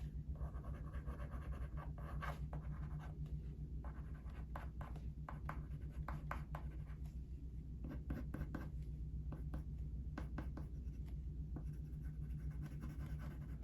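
Coloured pencil lightly tracing an outline on white paper, a steady soft scratching with repeated short strokes, close and quiet with no talking.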